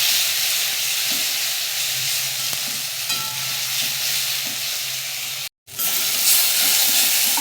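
A paste of ginger, garlic and green chili sizzles and fries in a pan, making a loud, steady hiss with occasional stirring scrapes, briefly cut off by a short silent gap.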